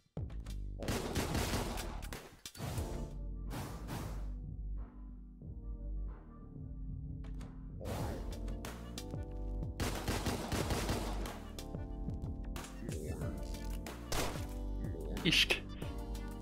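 Gunfire in the video game Deadbolt, loud bursts of repeated shots and heavy thuds in clusters, with quieter gaps between volleys over a game soundtrack.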